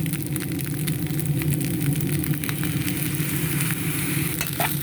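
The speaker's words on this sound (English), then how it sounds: "I love the sound of sizzle." Fried rice with vegetables and turkey kielbasa sizzles loudly in a pan, a steady crackling hiss with occasional stirring scrapes and no talk.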